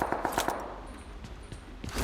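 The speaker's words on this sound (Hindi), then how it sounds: "मेरे को टावर की तरफ से भी थोड़ी सी फायरिंग आई थी" In a battle royale shooter game, a quick burst of automatic gunfire comes from a tower, a rapid string of close sharp shots followed by a few scattered, fainter reports.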